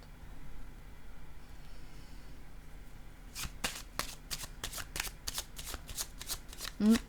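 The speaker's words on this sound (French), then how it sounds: "Je vais déposer une autre carte sur elle. Allons-y avec une autre." Tarot cards shuffled in a rapid run of crisp riffling snaps after a quiet start, ending with a card set down, close and moderately loud with faint background hum.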